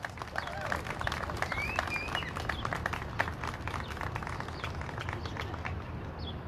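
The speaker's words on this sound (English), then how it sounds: "Give a round of applause to Joyce." A crowd at a Black Lives Matter PAC anniversary observance in Rhode Island applauds, with scattered sharp claps, murmuring voices and faint whistles mixed in throughout.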